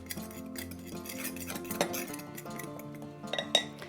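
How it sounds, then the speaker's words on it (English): A fork works salt into all-purpose flour in a bowl, producing steady light scraping and clinking with a few sharper taps near the end. "I'm just going to use my fork and kind of mix that in"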